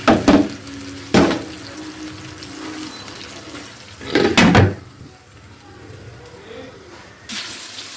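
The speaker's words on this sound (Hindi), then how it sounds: "और अब मैं इसमें शामिल करूँगी 1 कप पानी" A cup of water is poured into chicken karahi cooking in a pan, giving a few short splashing bursts and a sizzling wash that rise and fade, close by and moderately loud.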